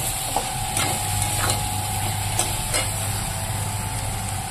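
Spiced, marinated meat sizzles steadily in a pan as it is sautéed, a continuous moderate frying hiss with a few soft stirring scrapes and a low steady hum underneath, no talking.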